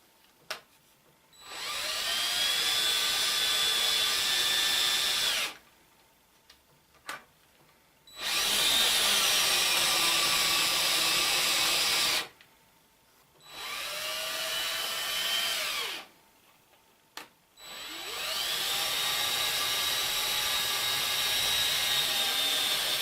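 DeWalt power drill spinning a mini wheel plate on threaded rod: three loud, sustained whirring runs with a rising and falling pitch, separated by short pauses and brief trigger clicks.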